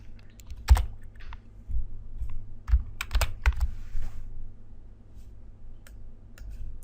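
Computer keyboard keys tapped and a mouse clicked in short irregular bursts, close and fairly loud in a quiet room, with no talking.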